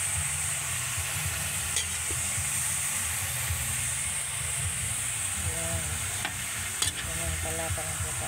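Food sizzles and hisses steadily in a home kitchen pan while a utensil stirs it, scraping and knocking now and then, close up with no talk.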